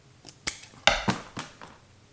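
Scissors snip through the wire of a 2-pole connector for a homemade goose pulsator, a handful of short crisp cuts and clicks spaced unevenly, close and fairly loud.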